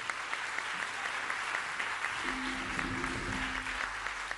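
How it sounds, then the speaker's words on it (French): A live blues concert crowd applauds a musician, a faint, steady wash of many hands clapping heard from a distance, with a low hum running underneath. "je vous demande de l'applaudir encore"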